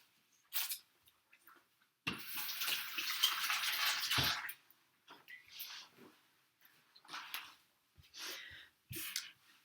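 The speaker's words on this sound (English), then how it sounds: "I'm gonna wash off my hands." Running water from a tap as hands are washed, a steady broadband rush for about two seconds, then intermittent splashes and short bursts of flow, fairly close with no talking.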